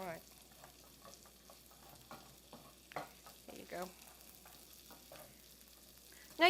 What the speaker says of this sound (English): I'm going to stir the onion. Keep stirring so it doesn't burn.